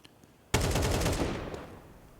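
In Counter-Strike on the Anubis map, a rapid automatic burst of gunfire erupts suddenly and stays loud for over a second before trailing off with echo.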